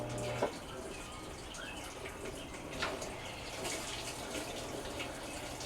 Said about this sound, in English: Now it just kicked over to mainly the hot valve, and the water, you can hear it coming in a lot stronger than what it was before